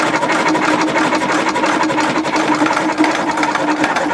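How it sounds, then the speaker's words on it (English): Hit-and-miss stationary engine running fast just before shutdown, a rapid steady mechanical chatter and clatter with a continuous buzzing tone, close and loud, no talk. "Shut it down, Race, before it blows up"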